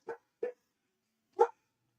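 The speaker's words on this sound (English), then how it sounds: "those are my dogs barking at the squirrel" Dogs barking at a squirrel: three separate barks, two quick ones close together and then a third after a short pause, fairly close and with no talking.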